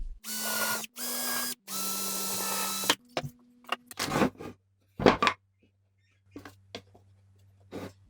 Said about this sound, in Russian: я прямо на шаблоне просверлю дырочки